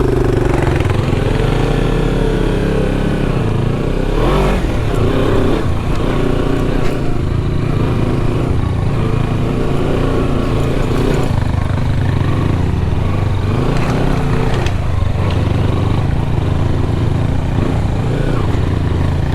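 A Kawasaki Versys 300 motorcycle ridden off road, its engine droning loud and close for the whole stretch with repeated rises and dips in revs over rough ground.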